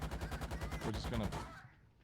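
Rapid, loud bursts of 30 millimeter cannon fire from a Bradley armored vehicle in a PC combat game, a steady rhythmic thumping run of shots that cuts off abruptly near the end, with no one talking.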